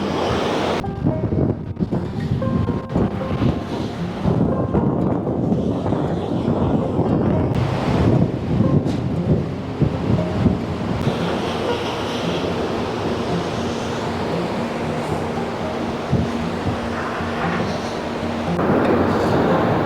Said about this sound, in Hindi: ये देखिए, ये है पुष्पावती नदी।